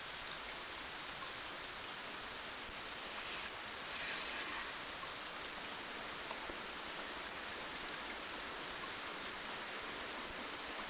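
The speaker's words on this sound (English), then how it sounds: "It was still pouring rain" Heavy rain pours down steadily outdoors near a horse riding area, a dense, continuous hiss that stays loud and even throughout with no voices.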